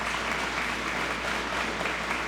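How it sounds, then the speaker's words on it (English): Applause from the audience at the Clarksville Police Department change of command ceremony in 2025, a dense, sustained clapping from a large crowd, even in level from start to finish. "Let's give them a round of applause if you would."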